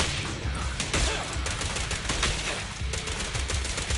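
Sustained rapid gunfire in Zenless Zone Zero, a loud, dense stream of automatic shots with sharp cracks over a rumbling low end, continuous from start to finish.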